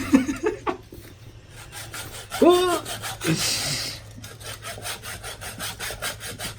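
Rhythmic back-and-forth sawing through a pole, close and scratchy, with a brief squeak and some faint voices in between.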